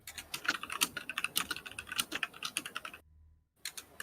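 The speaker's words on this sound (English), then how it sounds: "my keyboard makes me sound angry all the time" Rapid, clacky computer keyboard typing, close and fairly quiet, with a brief pause near the end before the keys resume.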